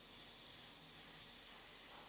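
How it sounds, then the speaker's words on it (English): An airbrush fires a test spray before painting a winter-scene portrait, making a steady, even hiss that runs unbroken and alone from start to finish. "we want to test our spray before we put it on our artwork"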